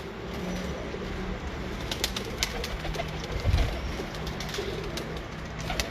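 Breeder pigeons sit and coo softly, their low repeated calls rising now and then over a constant outdoor background, with a few faint wing flutters and no talking.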